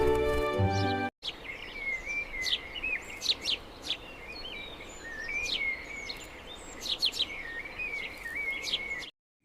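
A house sparrow chirps again and again, short bright calls coming at irregular intervals over a soft outdoor hum, after a brief musical tone at the start.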